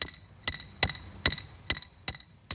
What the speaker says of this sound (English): A hammer is a very simple but useful machine.